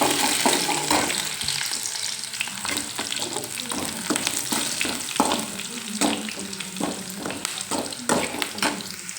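Curry leaves frying in hot oil for puliyogare, a loud continuous sizzle with crackling spits and the scrape of stirring throughout.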